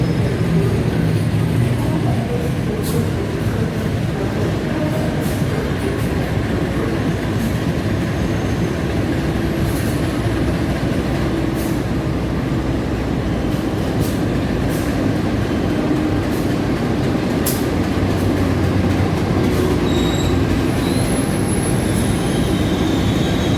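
Morning trains at Jatinegara railway station, Jakarta, with a continuous loud rumble of rolling rail cars, rhythmic wheel clatter and occasional high wheel squeals over about twenty seconds.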